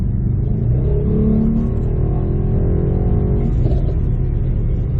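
2019 Mercedes-Benz E63 S AMG in Sport Plus mode with the exhaust opened, a loud close deep rumbling rev that rises and holds, then eases slightly, heavy low-end throb throughout.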